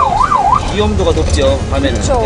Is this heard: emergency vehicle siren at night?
yes